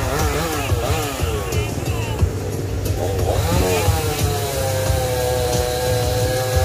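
A chainsaw runs steadily up close cutting a tree, its engine whining and bogging as it cuts, with pitch dipping and rising over several seconds.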